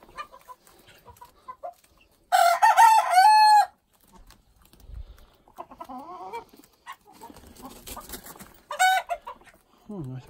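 Backyard chickens cluck softly while a rooster crows loudly twice, close by, with someone talking quietly in between.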